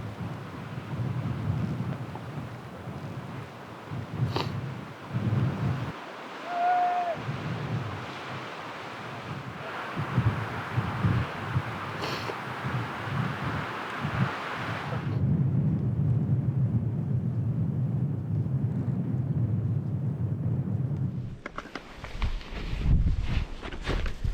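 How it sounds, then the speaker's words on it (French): Strong gusting wind buffets the microphone at a snowy mountain pass in the Southern Alps during a winter ski-touring outing, roaring steadily and loudly with surges and a sharper burst near the end, no voices. "Là il y a beaucoup de vent"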